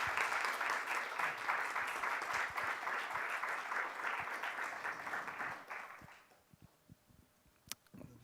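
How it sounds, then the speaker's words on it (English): Audience applause for comics artist John Higgins at a masterclass, a steady broad clapping that fades out after about six seconds, leaving a quiet room with a few scattered claps and small noises. "On applaudit. Merci beaucoup, John."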